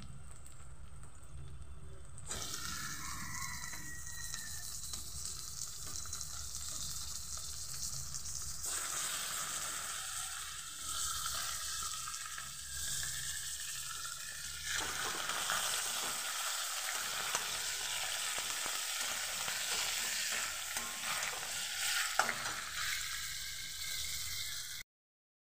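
Chicken pieces frying with onions for biryani give a long, steady sizzle broken by bouts of stirring and scraping, with the frying noise swelling and easing in stages.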